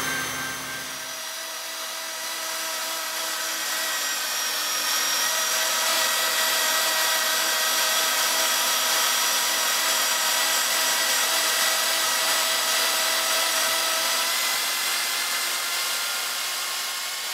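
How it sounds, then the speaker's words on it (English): Extrusion welding of HDPE lining, a steady loud high-pitched whining hiss with a constant tone that continues without a break, with no talking. "Okay, final process is extrusion welding."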